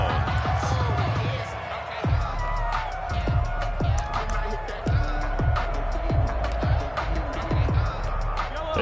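Stadium crowd cheering in the American football video game Madden 21 after a defensive stand on an opening drive, a sustained broad roar with repeated sharp percussive hits and swells, under commentary.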